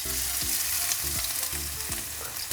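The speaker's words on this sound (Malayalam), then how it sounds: "ഇഞ്ചിയും വെളുത്തുള്ളി ഇടുവാണേ." Ginger and garlic fry in hot oil for a crab roast, giving a steady, close sizzle broken by several rhythmic metal scrapes and clinks of a stirring utensil against the pan, with no talking.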